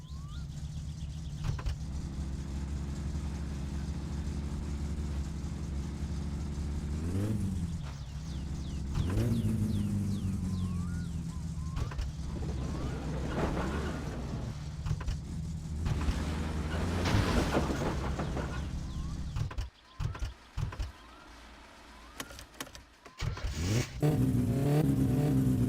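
A car engine in the driving game My Summer Car, with an aftermarket muffler, drones and revs repeatedly, the pitch rising and falling through several throttle blips, loud and continuous with a brief drop near the end.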